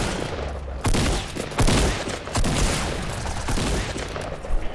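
Fortnite Battle Royale gunfire, loud close volleys of shots in rapid clustered bursts with sharp heavy cracks, continuous for nearly five seconds with no voices.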